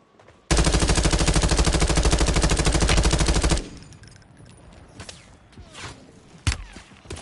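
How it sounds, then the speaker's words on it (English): Sustained automatic machine gun fire in the Call of Duty Warzone video game, a loud continuous burst lasting about three seconds, then quieter scattered shots, footsteps and thuds with one sharp crack near the end. "Taking fire!"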